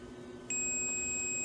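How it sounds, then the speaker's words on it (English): Ohm meter giving a continuity beep as its test leads touch together: a steady, sharp electronic tone switches on abruptly and holds, close and fairly loud over a faint background hum. "I got my ohm meter set, so when I touch my leads together, look at that sound"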